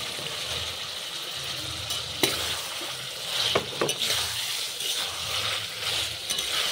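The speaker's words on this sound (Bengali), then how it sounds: "ভেজে রাখা মাংস দিয়ে দেব।" Pre-fried chicken pieces are tipped into a pan of chili chicken sauce and stirred, giving a steady moderate sizzle broken by a few sharp spatula scrapes and knocks.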